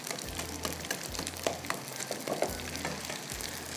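Food frying in a pan for a baked tikka biryani, a steady close sizzle with soft crackles and faint stirring, no voices.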